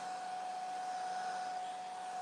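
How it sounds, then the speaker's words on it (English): A hair dryer blows steadily over a polymer clay rabbit, giving a constant whirring hiss with a thin motor whine, unbroken and fairly close throughout. "You're going to hear the hairdryer for a little bit."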